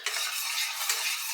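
A spoon stirs quick oats with cinnamon and vanilla as they cook in a pot, giving a close, continuous wet scraping and swishing with a faint bubbling sizzle underneath.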